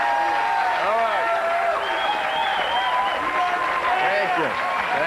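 A television studio audience claps and cheers steadily, a dense, loud wash of applause throughout with a voice speaking over it.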